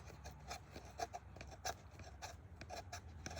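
Knife spine of a Boker Plus Mini Tracker scraping fine shavings off a stick of fatwood, a series of short dry rasping strokes close up, steady and fairly quiet.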